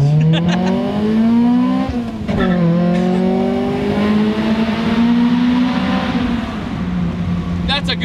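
A Honda Prelude with a custom Vibrant muffler accelerating hard, its engine note climbing through gears with a brief dip near two seconds, loud and close throughout, with people talking over it.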